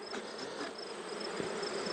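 A close, steady buzz of many honeybees fills the air as frames are shaken down into a nuc hive box, with faint knocks of the frames under the swarm's hum.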